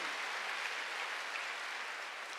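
Congregation applause during a Korean Sunday church service, a steady, even wash of many hands clapping together at moderate volume with no voices over it.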